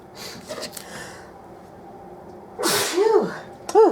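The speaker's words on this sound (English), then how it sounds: "Ooh, I need to sneeze." A single sneeze from a person making spinach artichoke dip in a home kitchen, a sharp burst after quiet mixing sounds and followed by a short voiced exhale.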